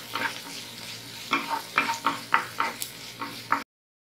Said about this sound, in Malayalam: കുറച്ച് ഉപ്പും കൂടെ ചേർത്ത് നന്നായിട്ടൊന്ന് വഴറ്റി കൊടുക്കാം.